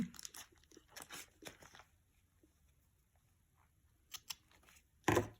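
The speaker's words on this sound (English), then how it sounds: "tie the knot in the end and then trim the ends off a little bit" Scissors trimming ribbon ends on a handmade holiday gift tag: a few quiet crisp snips and crinkles near the start, a pair more later, and a sharper final cut, close and faint with no talking.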